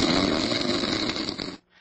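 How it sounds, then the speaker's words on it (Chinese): A woman gives one long, loud, rasping snore that rattles on for about a second and a half before stopping into near silence. "这是小姐的打呼声，"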